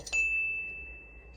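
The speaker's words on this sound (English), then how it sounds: "Goddamn phone." A phone notification chimes as one bright, sustained tone that rings steadily and slowly fades over about a second, fairly quiet with no talking.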